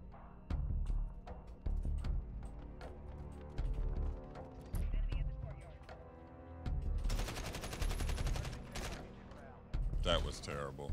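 Rapid SMG bursts from the video game Call of Duty Modern Warfare, several sharp volleys of gunfire with louder dense stretches near the middle and end, mixed with game music and effects, fairly loud and close.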